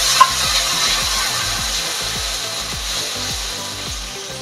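Ground onion and spice paste frying in a pan with asafoetida, a loud, steady, close sizzle and crackle with a low repeating rumble underneath.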